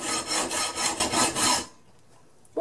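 A section of 304 stainless steel is cut with quick, rhythmic rasping strokes, about six in a row, loud and close, then stopping abruptly.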